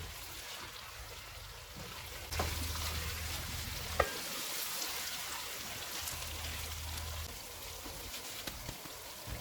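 Onion, green chillies and ginger fry in a karahi over medium heat, a steady close sizzle like rain with a few sharp stirring knocks and a low hum in the background.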